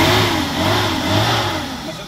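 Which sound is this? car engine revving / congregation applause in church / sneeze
car engine revving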